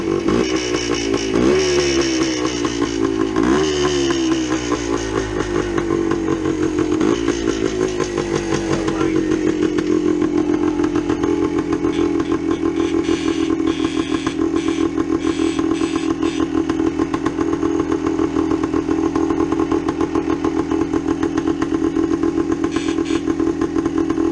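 A 1972 Yamaha DT2 motorcycle engine warming up nearby, starting with a few blips of rising revs that then settle into a steady, loud, buzzing idle running without pause.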